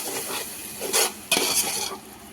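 Curd being stirred into chicken pulao in a pan over a slow flame, with scraping, sizzling strokes that swell in a few louder bursts, close and fairly steady over the whole stretch.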